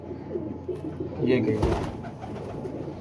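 Healthy, active pigeons coo softly at close range, with a brief voice speaking over the cooing and light rustling in the background.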